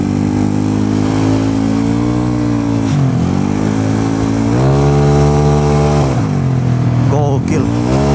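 A 300cc Yamaha Mio motorcycle engine revs hard and loud up close, pitch climbing and dropping through repeated throttle pulls, with someone talking over the roar.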